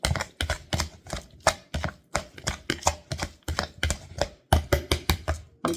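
Avocado sandwich filling is being chunked up with a knife, producing a quick, irregular series of sharp, close knocks on a cutting board, about three per second, with no talking.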